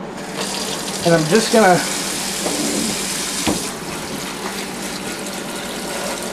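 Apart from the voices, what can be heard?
tap water running over shrimp in a strainer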